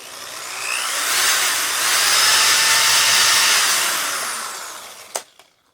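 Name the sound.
drill boring through pedal into thread lock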